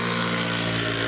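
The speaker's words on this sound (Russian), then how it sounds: "это не мопед, это мотоцикл." A loud, buzzing two-stroke IZh motorcycle engine drones steadily and close by on a forest road, with no talking.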